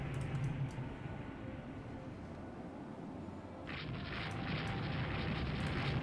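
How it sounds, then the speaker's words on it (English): Secondary naval guns fire from a warship in the Rule The Waves 2 naval combat game, heard as a steady, dense rumble of booms that grows louder and harsher in the latter half. "looks like the secondary guns are firing on the V2 over here"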